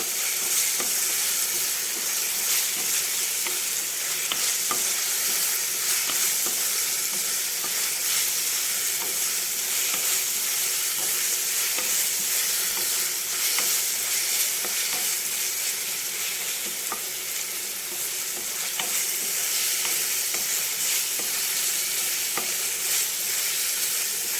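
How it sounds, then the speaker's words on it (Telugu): Ginger and garlic frying in a pan for a prawn curry, a continuous bright crackling sizzle with small pops, steady and close throughout with no talk. "అల్లం వెల్లుల్లి వేగిపోయిందండి."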